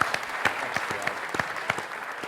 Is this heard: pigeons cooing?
no